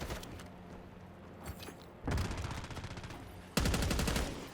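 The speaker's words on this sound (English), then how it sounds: "Oh, why did I shoot?" Rapid automatic rifle fire from a GPR-91 in the Black Ops 6 shooter game, two loud sustained bursts following quieter background game sounds, with the second burst the loudest.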